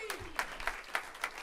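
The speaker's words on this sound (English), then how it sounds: "So let's give him a round of applause for that." Scattered, sparse clapping from a small audience after a student acting monologue, a few distinct claps spaced out over a second and a half.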